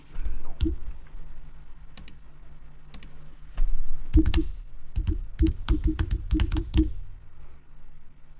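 Mouse clicks and keyboard typing on a Mac, quiet desk taps in scattered single clicks and then a denser run of keystrokes, close and alone.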